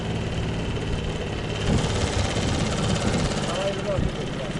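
A repaired Suzuki 6 outboard motor runs steadily on a river, its engine hum rising slightly in pitch as it revs, with voices talking over the continuous drone.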